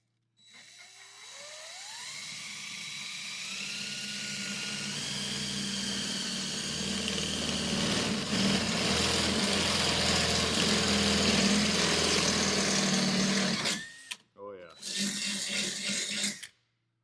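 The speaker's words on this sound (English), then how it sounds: "7/16 drill bit for the big one right in the middle" A power drill with a 7/16-inch bit whines steadily, its pitch rising as it spins up, then runs continuously for several seconds before stopping briefly and restarting, drilling a hole while installing a wall-mount garage door opener.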